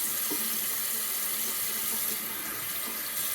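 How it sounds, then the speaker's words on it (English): Cold tap water runs steadily into a bathroom sink for a final rinse after a wet shave, a continuous close hiss with no talking. "Alrighty, let's do our final cold water rinse."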